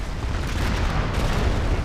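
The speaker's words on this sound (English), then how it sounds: "Big explosion." A big explosion in the real-time strategy game C&C Shockwave gives a dense, rumbling blast that stays loud and continuous through the short moment.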